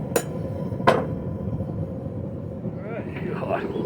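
A hammer strikes hot steel at a forge with two sharp, loud blows close together near the start, then a constant roar of background noise and a few faint whining tones.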